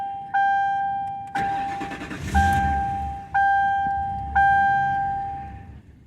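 A Ford Crown Victoria with an idle air control valve fault cranks repeatedly in cold weather in several short bursts, each with a straining whir and a chime sounding between attempts, but it never catches.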